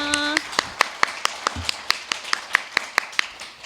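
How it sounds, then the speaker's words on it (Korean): Audience at an award ceremony claps in a steady, sparse rhythm of distinct hand claps, fairly close and moderately loud, with a brief tone at the start. "박수 한번 주시죠."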